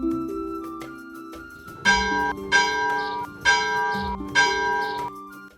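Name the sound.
bell ringing in a LEGO chapel model's bell mechanism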